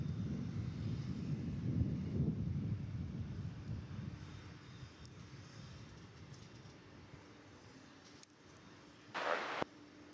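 American Airlines flight 1775 taking off at DFW Airport at night, a low rumbling jet roar that is strongest early and slowly fades into the distance, with a brief burst of wind noise near the end.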